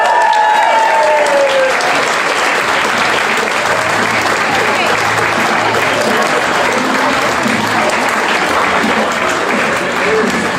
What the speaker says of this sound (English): they should still get a round of applause every time they get over here